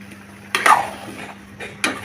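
Cucumbers are dropped into a cooking pot of shrimp, tomato and lentil curry, giving a few short clattering stirs and utensil knocks against the pot over a faint steady hum.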